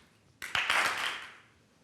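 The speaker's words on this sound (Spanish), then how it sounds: "que aplaudan los de Zaragoza" Zaragoza fans in an audience break into a short burst of applause that swells quickly, then fades over about a second, heard fairly faintly and without talk.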